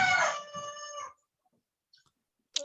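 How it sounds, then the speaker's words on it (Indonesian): A rooster crows once, loud and harmonic, its call tapering off within about a second, then near silence broken by a few faint distant clucks and a short sharp sound at the end. "Oh itu ayam tuh"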